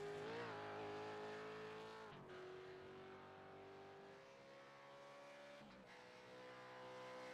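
A V8 Supercar race car at Daytona holds full throttle in a distant, sustained engine drone. The tonal whine rises slowly in pitch and dips briefly twice as it passes, faint and without voices.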